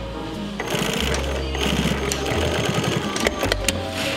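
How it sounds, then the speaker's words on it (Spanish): An industrial sewing machine stitches together the front pieces of a pair of denim jeans along the crotch seam. Its loud, steady mechanical whir and rapid needle chatter run close and continuous throughout. "Seguidamente se unen las piezas delanteras y se cose el tiro"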